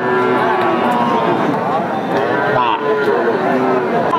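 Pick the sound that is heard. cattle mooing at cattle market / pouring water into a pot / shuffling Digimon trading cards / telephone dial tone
cattle mooing at cattle market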